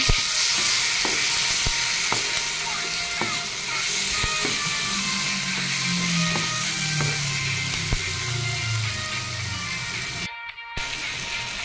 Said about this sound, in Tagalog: lagay na rin ang ating dinurog na talong. Haluin lang.